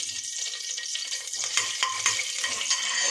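Whole cinnamon, cloves, cardamom and bay leaf frying in a spoonful of ghee in a pan, a steady close sizzle with a few scraping stirs and light clinks, no talking.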